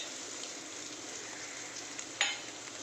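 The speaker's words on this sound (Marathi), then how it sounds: "कांदे परतून झाले तर टाकते टोमॅटो, टाकते कोथिंबीर" Onions, tomato and spices fry in a pan for paneer bhurji with a faint, even hiss, broken near the end by one brief sharper spatter or scrape. No one speaks.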